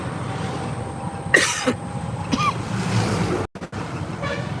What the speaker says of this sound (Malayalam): ചെറിയൊരു ചുമ ഉണ്ട് മയപ്പാറിൽ കൊണ്ടത് കൊണ്ടാണെന്ന് തോന്നുന്നു